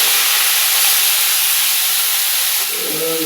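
Potatoes and onions fry in hot oil left from frying shrimp and pointed gourd, a loud continuous sizzle with hiss, close up and alone, easing slightly near the end.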